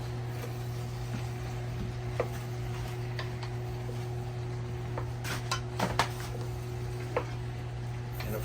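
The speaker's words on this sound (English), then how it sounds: "we're just going to give it a mix" A spoon stirs diced potatoes and sausage hash in a pan, making faint, scattered scraping clicks and taps over a steady low kitchen hum, with a light sizzle underneath.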